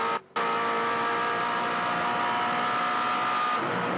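Supercars race car on a wet track, a steady loud engine roar with a brief dropout near the start, holding a constant drone as it passes with rain spray hiss.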